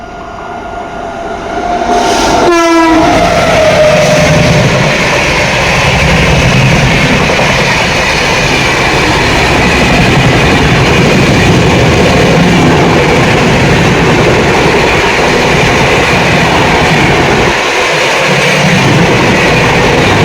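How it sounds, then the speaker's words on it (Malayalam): A train rolls into Cholang railway station, a station with no platform on one side, as a loud, steady rumble of wheels and cars that fills the whole stretch, with a brief rising tone near the start. "ഇത് ഇവിടത്തേക്ക് ഒരു വണ്ടി വരുന്നത്."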